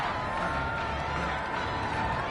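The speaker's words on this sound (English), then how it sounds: "This home crowd, they're happy with that call." A home crowd in an American football video game roars in a steady, broad wash of cheering after a penalty flag, sustained and fairly loud from start to finish, with faint commentary voices mixed in.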